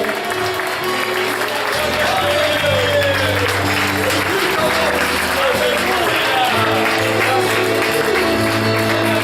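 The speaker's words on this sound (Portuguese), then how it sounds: "Podemos aplaudir a Jesus por o que fez por nós aqui nesta manhã" A church congregation applauds during a morning service in Canoas, steady clapping running throughout while music and a voice continue underneath.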